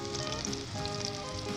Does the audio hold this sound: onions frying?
yes